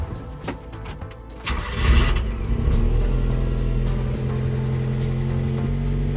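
A Subaru Sambar truck cranks with a few ticking clicks, then its engine catches and settles into a steady, close idle that keeps running at an even level.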